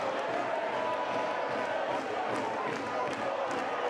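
Football stadium crowd at a Concacaf World Cup qualifier between Dominica and Jamaica, a steady broad roar of spectators with scattered shouts, continuous and fairly loud throughout.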